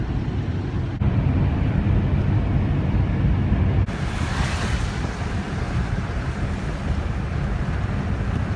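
Pacific Ocean surf rolls in as a continuous broad roar of breaking waves, mixed with gusty wind buffeting the microphone, with no voices.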